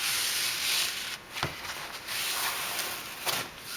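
Peel ply being peeled sideways off a cured fiberglass and epoxy layup on a composite plane's horizontal tail, a continuous close, dry ripping rasp with a couple of brief pauses.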